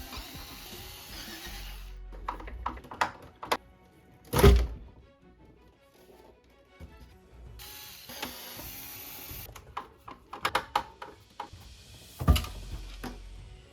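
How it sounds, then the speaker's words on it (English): Screws being backed out of the housing of a JBL Boombox 4 portable speaker during a teardown, heard as scattered close mechanical clicks, ratcheting and a couple of louder thunks with quiet gaps between them. "To remove it, we'll take out 8 screws around the housing."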